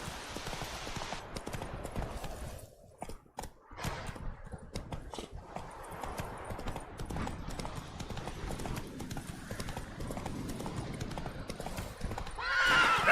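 Roach, Geralt's horse in The Witcher 3: Wild Hunt, gallops with a steady, loud clip-clop of hooves that continues throughout, a whinny rising near the end.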